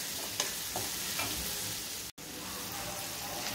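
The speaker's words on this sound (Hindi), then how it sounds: "ताकि प्याज हमारा जल्दी से फ्राई हो जाएगा" Chopped onions fry with salt in a hot pan, giving a steady loud sizzle with occasional stirring scrapes and one brief cut to silence partway through.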